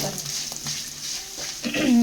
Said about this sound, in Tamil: பூண்டு, இஞ்சி, குண்டு உளுந்து, காஞ்சி மிளகாய் எல்லாமே வதக்கிட்டு